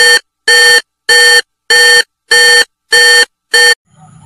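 A telephone rings unanswered, seven loud, evenly spaced bursts of ringing alone, each lasting about a third of a second, before falling silent.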